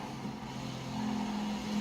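Bugatti Chiron hypercar accelerating in the racing game Forza Horizon 4, a steady engine drone that rises slightly in pitch and loudness as it builds speed, no voices.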